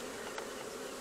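Honeybees buzz as a steady, dense drone inside an opened hive during an inspection, close and continuous with one brief brighter flick partway through, no voices.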